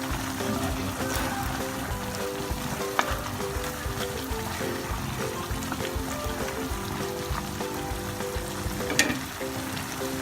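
Pork cooked with shrimp paste sizzles and fries in a pan while being stirred, a continuous soft crackle with occasional scraping clicks, close and fairly quiet.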